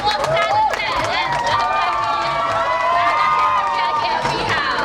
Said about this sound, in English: Let's have a huge round of applause. Keep clapping, everyone!